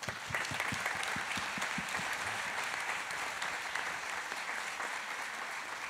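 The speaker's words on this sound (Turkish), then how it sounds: "Biz sizi alkışlıyoruz buraya geldiğiniz için." A concert audience applauds steadily before a symphony orchestra performance, the clapping dense and sustained throughout, with a few distinct claps standing out near the start.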